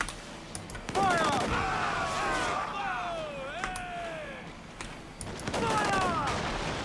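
Ship cannons firing broadsides in Assassin's Creed IV: Black Flag, heavy booming volleys amid battle noise, with crew voices shouting and a high whistling or creaking sweep running across the middle.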